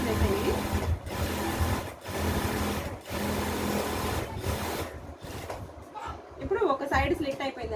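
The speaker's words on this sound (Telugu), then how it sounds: "మళ్ళీ ఇలా తిప్పి ఇలా ఎడ్జ్ స్టిచ్ వేసేయండి." A sewing machine edge-stitches the slit of a kurti in loud, close bursts of fast whirring cut by short pauses, ending as someone speaks over the machine's last moments.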